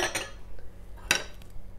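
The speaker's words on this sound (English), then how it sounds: "there goes those delicious pecans" Pecans tumble into a bowl of ambrosia salad with cherries and syrup, giving two short clattering bursts about a second apart, close and fairly quiet.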